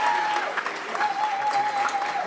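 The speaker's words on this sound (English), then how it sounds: "Big round of applause for the band there" Audience at a 2016 winter concert applauds a band after its debut performance, steady clapping filling the room with a sustained tonal hum running underneath.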